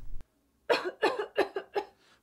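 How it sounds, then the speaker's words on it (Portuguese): A series of four or five harsh coughs in quick succession, close and fairly loud, opening a Brazilian radio advertisement for a flu remedy, with no talking over them. "Tosse? Mal-estar?"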